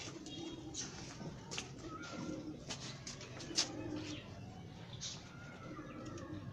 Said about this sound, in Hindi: ये अली वाला मेरे हाथ में कबूतर